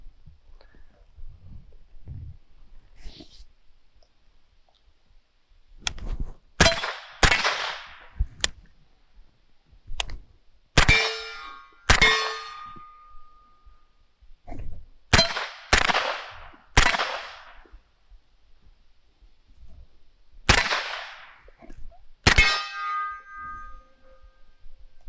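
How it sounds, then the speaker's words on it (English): Gunshots fired at smart shooting targets on a range, a series of sharp, loud cracks in uneven clusters, some with metallic ringing impacts, with quiet gaps between volleys. "I cannot shoot and talk at the same time."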